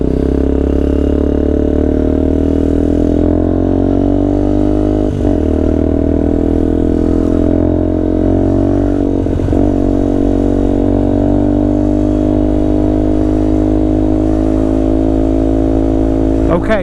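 Benelli TNT 125 motorcycle riding at a steady cruise near 30 mph, a continuous loud engine drone with even pitch and heavy wind rumble, slight shifts in tone at a few moments.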